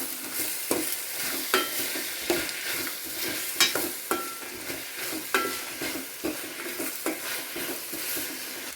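Carrots and green peas frying in a pan, sizzling steadily while a utensil stirs them in repeated scraping strokes, close and alone with no talk.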